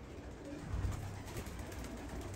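Pigeons of a flying breed coo softly in low, throaty bursts close by, under a steady background hiss with no talking.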